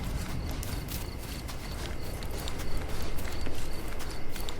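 Horse hooves clip-clop steadily in a Sherlock Holmes: Chapter One game scene, the rhythmic footfalls growing louder over a busy ambient background.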